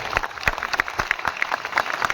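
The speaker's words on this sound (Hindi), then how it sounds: "थोड़ा तालियों के साथ में।" Scattered audience clapping for a woman railway trade union president, fairly sparse individual claps with a few louder distinct hits rather than a full ovation.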